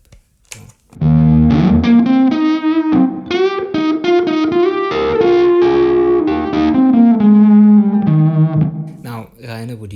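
An electric guitar played through a BJØRN fuzz pedal with the fuzz control turned all the way down, a run of loud, close, mildly distorted single notes and bends with a singing sustain, starting after a brief quiet moment and ringing continuously.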